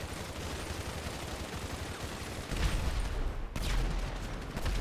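Heavy automatic gunfire in a GTA boss fight, a continuous dense rattle that swells louder in the second half, with no voices over it.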